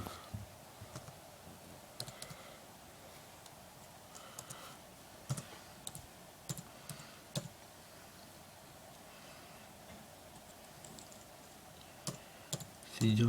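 One-handed typing on a computer keyboard: quiet, irregular key clicks in small scattered bursts over a faint steady hum, with a louder clatter at the end.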